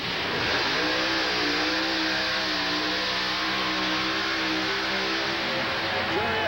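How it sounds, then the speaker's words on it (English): "Daddy's Toy", a 1989 Chevy drag racer with a blown 586 cubic inch engine, makes a sustained, loud, roaring drone at a 1990 USHRA event in San Diego, with a continuous wash of noise throughout. "Here's Daddy's Toy with Kenny Goodman behind the controls. An 89 Chevy, powered by a 586 cubic inch blown machine"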